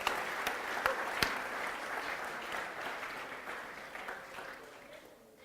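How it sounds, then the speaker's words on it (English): An audience claps for Trey Zoeller, a dense burst of applause with a few sharp individual claps early on, fading gradually over several seconds. "how about a big round of applause for Trey Zoeller"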